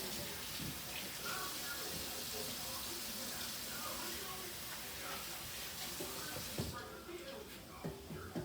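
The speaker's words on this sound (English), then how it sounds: "Go wash your hands." Tap water running steadily into a kitchen sink while someone washes their hands before handling food: a continuous hiss with faint splashing throughout.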